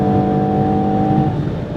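A 2025 Ferrari Purosangue accelerating hard on the Autobahn at around 200 km/h, its engine a steady, loud, sustained drone with wind and road roar inside the cabin, no talking.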